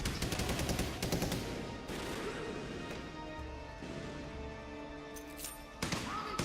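Pistol gunfire in the Medal of Honor Warfighter video game, with several sharp close shots in quick bursts at the start and near the end and a quieter echoing stretch of battle noise between.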